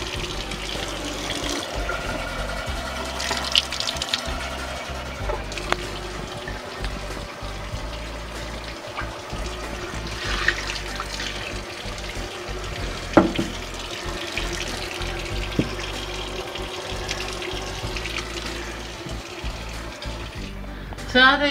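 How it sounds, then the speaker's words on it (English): Water runs and sloshes continuously as sprouts are rinsed and shaken in a jar, a close steady wash with occasional knocks and a voice speaking faintly underneath. "So you just get the water in there, give it a shake"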